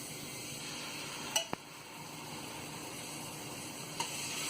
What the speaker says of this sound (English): Now I want to sear the salmon.